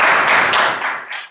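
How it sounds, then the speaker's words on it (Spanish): Audience applause at a museum talk welcoming a games developer to the stage, a loud, dense wash of clapping that thins and fades toward the end. "vamos a recibir con un aplauso a David"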